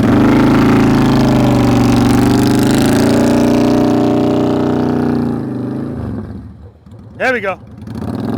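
Honda Goldwing touring motorcycle engine droning loudly up close, then winding down and fading toward quiet as the bike comes to a stop, with someone speaking briefly near the end.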